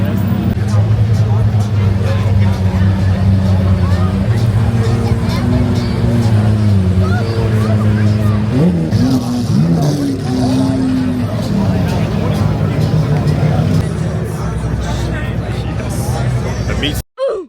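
Cars rumbling and revving at a large car meet, a loud continuous engine drone with rising and falling pitch sweeps over a background of crowd chatter.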